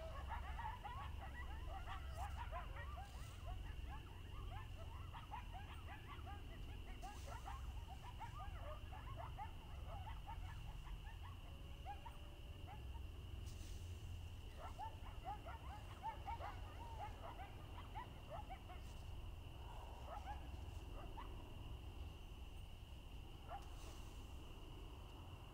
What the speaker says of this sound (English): there are coyotes howling as I'm battling this werewolf